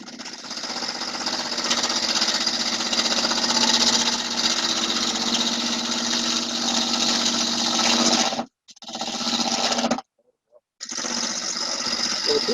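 Wood lathe spinning a three-sided, V-shaped bowl blank at speed, a loud steady whirring roar with a rhythmic chop from the wings, cut off briefly twice near the end before resuming.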